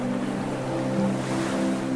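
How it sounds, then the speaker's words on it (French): Ocean waves wash and crash against the shore as a steady, broad surf roar, with a low droning hum running underneath throughout and no voices. "les vagues qui s'écrasent"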